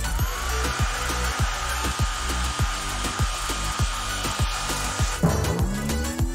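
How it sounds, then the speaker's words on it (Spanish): A hair dryer blows on a frozen pizza, a loud continuous whooshing roar with a rapid rhythmic rattle underneath that shifts abruptly near the end, with no voices. "No tengo un horno. Pero sí un secador de pelo."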